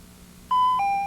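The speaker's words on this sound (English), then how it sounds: "There's our time buzzer." An electronic time-up buzzer on a televised high school quiz bowl sounds as a clear two-tone signal, a higher tone stepping down to a lower one, loud against a quiet background.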